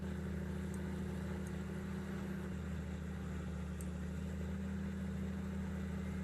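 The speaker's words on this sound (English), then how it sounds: "Bit of off-roading me tractor." Tractor engine in Farming Simulator 19 driving off-road, a steady mid-pitched drone with a constant low hum throughout, no talking.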